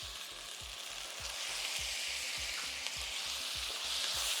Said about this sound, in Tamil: வெங்காயமும் இஞ்சி பூண்டு இந்த அளவுக்கு வதங்கணும்.